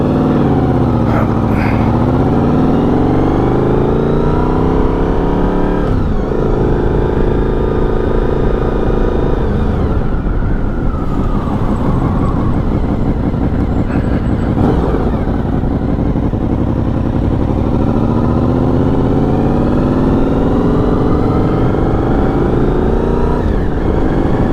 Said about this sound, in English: I think we'll wait for the dump truck.